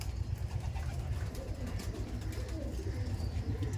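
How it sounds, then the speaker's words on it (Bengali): Giribaz and Kolkata mix racer pigeons coo in a crowded loft, a dense low murmur of overlapping calls that stays steady throughout. "এই দেখে দেখুন গিরিবাজ পায়রাও আছে, সমস্ত ধরনের পায়রা আছে"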